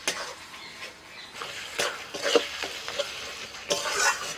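Spice paste with Kashmiri chilli powder and a splash of water sizzles and gets stirred in a pan for mutton curry, with soft frying hiss and irregular scraping strokes close by.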